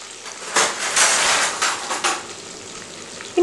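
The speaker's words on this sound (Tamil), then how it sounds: "நம்ம வந்து வெங்காயத்தை ரொம்ப முறுக விட்டுறக்கூடாது, ஏன்னா பொறிச்சு எடுத்த பிறகு இன்னும் கொஞ்சம் கலர் டார்க் ஆகும்" Onions deep fry in oil for a large batch of Hyderabadi chicken dum biryani, a steady close sizzle and crackle that swells in a few louder surges, with no voices.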